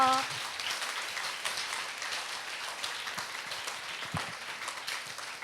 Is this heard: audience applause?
yes